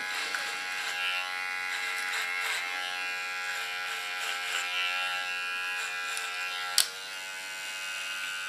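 An electric hair clipper hums steadily while cutting short hair, a continuous close buzz lasting several seconds with one brief sharp click near the end.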